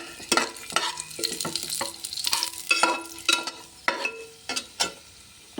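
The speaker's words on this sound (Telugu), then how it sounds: "మీడియంలో పెట్టేసుకొని స్టవ్ జీడిపప్పులు వేయించుకోవాలి" Cashews fry in ghee over medium heat in a pot until golden brown, a soft sizzle broken by repeated scraping stirs of a spoon, with clinks and scrapes coming every half second or so, close up and without talk.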